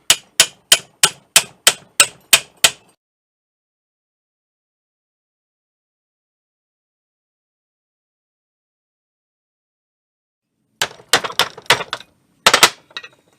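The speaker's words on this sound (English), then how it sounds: "Take a nice wide cold chisel, and it's really not fastened in the vise, it's just sitting on the little support down there" A hammer driving a wide cold chisel to split copper vise jaws resting on a support, first seven evenly spaced sharp metallic strikes, then silence, then a second cluster of rapid ringing blows, close and loud.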